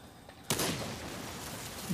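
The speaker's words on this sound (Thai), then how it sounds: "หืมรถระเบิด" A car blowing up in the zombie shooter Into The Dead 2 lands as a sudden loud burst that breaks in after a quiet stretch, then trails off into a long rumbling, noisy decay.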